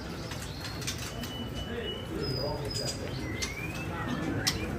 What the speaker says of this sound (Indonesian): Murai batu ya, bergaransi bunyi,